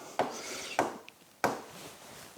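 Three sharp creaks of wood under strain as a wooden leg is held in a vise, spaced irregularly, close and fairly loud, with quiet gaps between.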